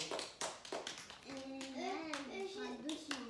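Children clap in a classroom, a few quick, scattered claps close by at the start, followed by a voice speaking.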